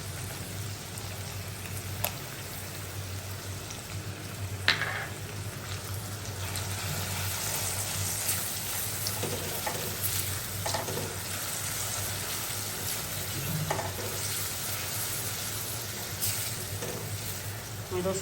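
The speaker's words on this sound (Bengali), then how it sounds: "আমি রসুনটা ভালো করে কষা নিব।" Blended garlic, onion, ginger and green chilli paste fries in a pan, a continuous soft sizzle like light rain, with occasional stirring scrapes and clinks and faint distant voices under it.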